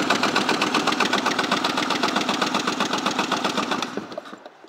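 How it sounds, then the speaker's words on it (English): A 2000 Polaris Virage 700 twin, a freshwater engine, cranks over on the starter during a compression test, giving a loud, fast, steady chugging rhythm that runs for about four seconds before slowing and dying away. No one speaks. "We're going to do engine compression test."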